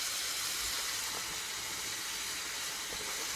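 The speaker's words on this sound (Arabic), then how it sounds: "هالا يقلاو كاع كيف كيف" Vegetables, garlic and tomatoes fry in a pan as a steady, even sizzle that stays constant throughout, close by with no talking.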